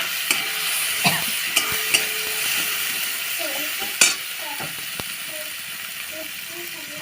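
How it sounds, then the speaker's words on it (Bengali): Spices with salt and chilli powder being stir-fried in a pan, a steady low sizzle under sparse spoon taps and scrapes, one sharper clack midway, with faint voice sounds in the background. "মশলাটা ভালো করে কষিয়ে নেবো"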